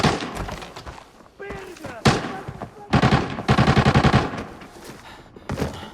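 Dense bursts of rapid gunfire in Arena Breakout with thuds and impacts, loud and continuous, with a voice talking intermittently underneath.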